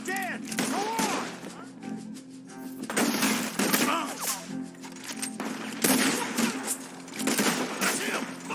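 Rapid gunfire bursts in the Red Dead Redemption 2 story mode, volleys of shots crackling in loud clusters with brief lulls, mixed with in-game voices and background game sound.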